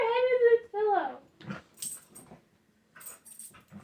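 A pet dog gives high whining whimpers, then low playful growls and snuffles in short bursts close by, with quiet pauses between.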